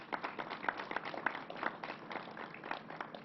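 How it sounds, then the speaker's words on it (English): A small audience claps at a COVID-19 press briefing: brief, faint, scattered applause, thin and distant-sounding. "Let's give them a round of applause."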